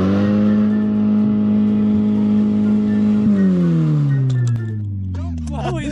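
A car engine is held at a steady high idle around 1,500 to 2,000 RPM, a loud droning hum that then eases down in pitch as the revs fall, with brief voices near the end.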